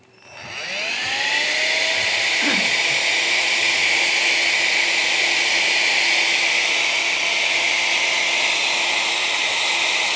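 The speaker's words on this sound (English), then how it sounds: "Vacuum." A vacuum cleaner starts up and rises within a second to a loud, steady whining roar that holds unbroken, close by, with no talking over it.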